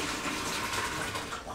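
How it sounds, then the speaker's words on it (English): Cooked macaroni's hot water being poured off in a kitchen, a steady, close rushing gush of water running without a break and no talking. "I have to pour this macaroni off of the water"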